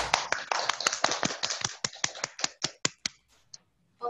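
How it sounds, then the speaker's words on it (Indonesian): A small audience at a women's forum claps in sharp, distinct strokes at a quick, steady pace, the claps thinning and spacing out until only a couple remain before falling silent. "Beri tepuk tangan."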